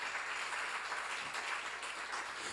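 Church congregation applauding during a Korean seminar sermon, a steady wash of many hands clapping at moderate distance, continuous and even throughout before a sharp knock at the very end.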